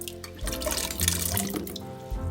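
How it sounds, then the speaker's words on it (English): Cold water runs from a tap into a cooking pot for boiling potatoes, a steady close splashing and gurgling stream without any talk. "get a pot and put some cold water in there and just pour your potatoes in"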